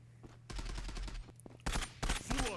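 Rapid bursts of automatic gunfire in the shooter Zula come in a few short, loud volleys with brief gaps between them. There is no talking.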